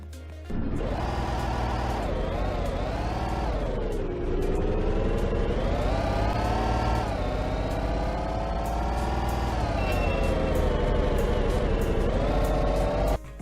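Engine of a tow truck driving in the Roblox video game, a loud, steady revving drone that climbs in pitch, dips at gear changes around four and seven seconds, then builds again, with no talk throughout.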